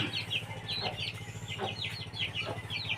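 Quality breeder rooster giving repeated short clucks and calls, fairly close, with a steady low mechanical hum underneath and no talking.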